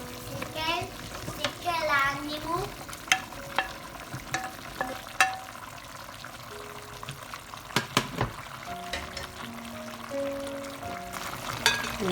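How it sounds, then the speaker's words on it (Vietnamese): Potato pieces drop into a hot pan for chicken curry and sizzle while being stirred, with scraping utensil knocks and intermittent speech over the frying. "Bây giờ nhé, mình sẽ cho khoai vào này."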